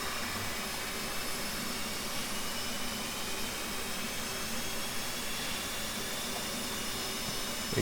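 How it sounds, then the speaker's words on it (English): Steady broadband whine and roar of an F/A-18 Hornet jet engine spooling up during a cockpit start in the DCS flight simulator, a continuous even drone with no speech. "Okay, now we can crank the other engine. Crank left."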